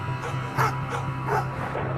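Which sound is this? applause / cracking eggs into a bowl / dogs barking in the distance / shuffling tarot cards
dogs barking in the distance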